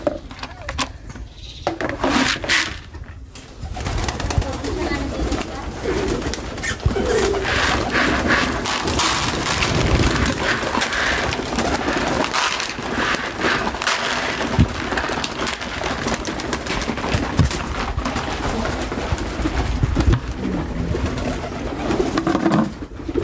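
Pigeons cooing inside a home pigeon loft around feeding time, several birds calling in overlapping soft throaty coos, close and continuous, with rustling and scattered knocks among them.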